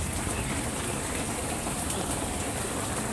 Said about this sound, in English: if you can hear the rain behind me